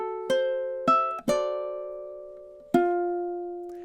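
Ukulele melody, played alone: four plucked notes with clean sustained harmonics, two close together, then a long ringing tone before the last note, moderately loud and close.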